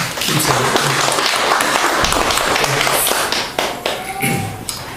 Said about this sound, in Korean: 우리 박수 한번 격려합시다